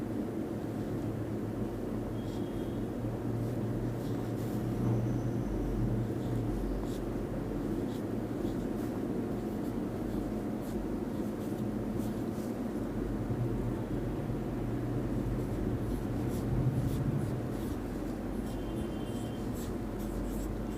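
Chalk or marker writing on a board during a statistics lesson on data classification, faint repeated strokes and taps over a constant low room hum, with no voice.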